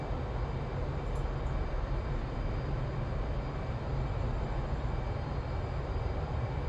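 Jet engine roar from an F/A-18C Hornet in the DCS flight simulator as power is added, a steady, loud broadband rumble that holds constant throughout with no talk over it.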